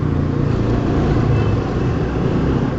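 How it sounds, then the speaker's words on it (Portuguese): A truck approaches from the left on a road, a steady, loud, close engine and road rumble filling the whole stretch without pause. "Olha o caminhão vindo pra esquerda"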